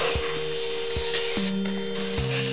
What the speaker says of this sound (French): j'utilise un spray cuisson comme ça, que l'on met sur les bords